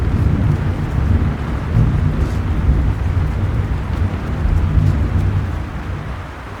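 Thunder rumbles loud and close through a heavy thunderstorm, a continuous deep roll with swelling peaks and rain noise, no voices present.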